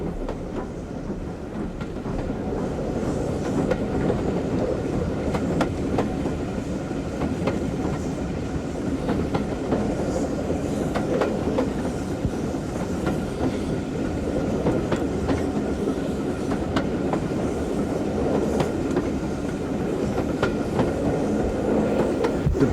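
A Southern Railway train runs steadily along a country branch line through rolling countryside, a continuous rumble with rhythmic wheel clatter over rail joints, moderately loud and unbroken throughout.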